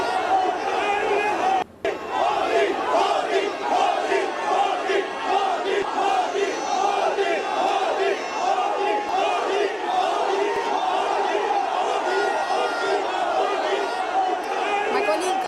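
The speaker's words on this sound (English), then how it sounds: "Modi chants rung out in the stadium as he was walking by" A large stadium crowd in Jaipur roars and chants "Modi" continuously, a dense, loud wall of massed voices with a brief dip near the start.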